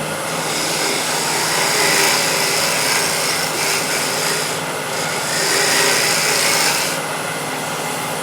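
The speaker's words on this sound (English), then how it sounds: "The spindle gouge." A spindle gouge cuts wood spinning on a lathe, giving a continuous, loud, hissing scrape that swells and eases gently as the tool moves along the piece, with no talking.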